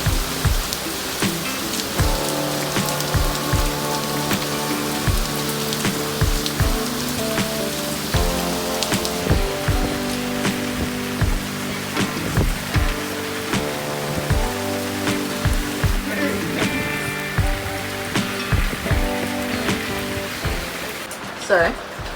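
Heavy rain pours onto a sailboat at anchor, a constant drumming patter with louder individual drops striking the deck and fittings, while people talk under the downpour.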